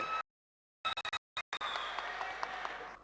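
The audience at the Potugadu audio launch applauds the director: short bursts of clapping broken by silent gaps, then settling into sustained, moderately loud applause.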